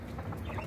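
A rooster clucks softly and steadily at close range after treatment for a bleeding head wound, with low continuous murmuring fowl sounds and no speech.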